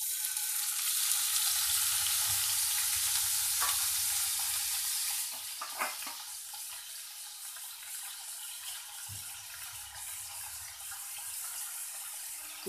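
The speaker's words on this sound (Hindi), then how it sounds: "ये पनीर को हमने छोटे छोटे हिस्सों में कट कर लिया है, अब इसको हम इस कढ़ाई में डाल देंगे" Small cut pieces of paneer fry in a kadhai with a steady, close hiss of sizzling oil that softens partway through, broken by a few stirring clinks, with no voices.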